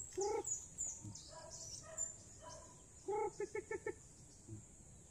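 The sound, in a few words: chick peeping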